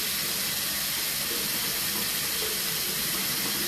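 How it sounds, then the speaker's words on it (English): Warm water running from a bathroom sink tap while a face is washed, a steady close splashing hiss that fills the clip without any talk. "now that I've washed my face and all that, and did my mask with warm water"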